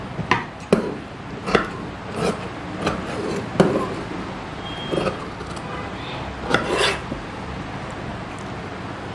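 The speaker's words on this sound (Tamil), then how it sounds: "இந்த லைன் வரைக்கும் நான் ஜஸ்ட் ஃபோல்ட் பண்ணிட்டு கட் பண்ணிக்கிறேன்" Scissors cut through folded cotton blouse fabric along a marked line, giving a series of sharp, close snips spaced roughly every second over a soft background rustle.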